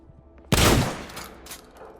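A single loud shotgun blast from the video game Fear the Timeloop goes off sharply and alone, its boom trailing into a decaying echo.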